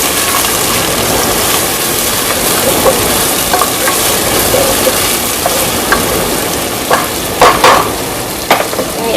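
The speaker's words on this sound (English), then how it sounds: "some onion, just diced. I'm going to stir that." Diced onion fries loudly in a pot as a continuous sizzle, with spoon scrapes and knocks against the pot as it is stirred, growing more frequent toward the end, no talking.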